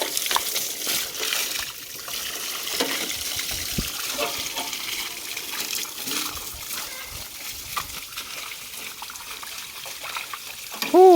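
Water runs and splashes steadily while a vehicle is washed at the end of the rice-farming season, a continuous trickle with scattered splatters and a brief louder burst at the end.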